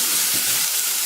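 Tomatoes sauté in a hot pan for pepper rasam, giving a loud, close, steady sizzle and hiss that carries on without a break and with no voices.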